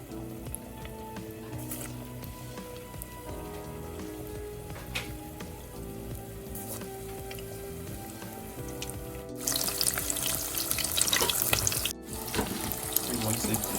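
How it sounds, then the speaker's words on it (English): Crab rangoon dropped into hot oil, a steady bubbling sizzle that swells louder partway through as the dumplings hit the oil, close and continuous. "now you're gonna drop these right inside the oil"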